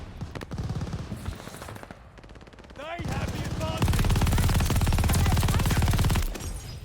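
Rapid automatic gunfire in the Call of Duty Vanguard video game, dense bursts of shots that swell louder midway and hold steady before easing off, with no talk over them.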